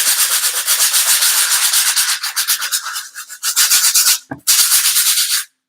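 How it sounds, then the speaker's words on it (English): Steady, close scraping of a sanding block rubbing back and forth over a glittered pumpkin, sanding off the glitter, with a brief knock near the end before the sanding resumes and stops. "So I'm just sanding it off."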